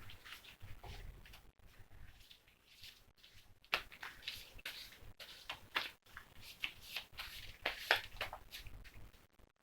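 Soft riffling and flicking of a card deck being shuffled, in short bursts with brief pauses, quiet and close.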